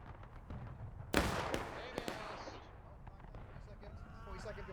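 A musket volley in the Civil War shooter War of Rights: a sharp crackling burst of rifle fire, then a few scattered follow-up shots over a low rumbling battlefield background.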